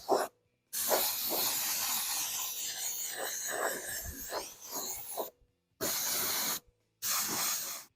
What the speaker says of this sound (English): Go ahead and spray our black.